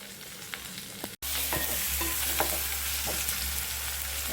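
Chopped tomatoes, onion and garlic sauté in a pan with a loud, continuous sizzle. A brief dropout comes early, then scattered stirring scrapes sound over the frying, with no talk.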